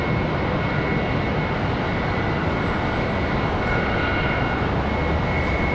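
An American Airlines Airbus A319 jet departs from a busy airport, a constant, dense engine roar with a faint high whine on top, steady and loud throughout with no voices.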